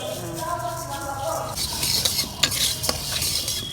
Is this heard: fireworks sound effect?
no